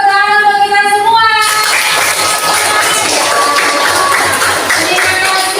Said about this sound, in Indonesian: Kemudian tepuk tangan untuk kita semua.